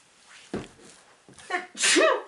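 A person takes a couple of sharp inhales, then lets out a loud, close sneeze.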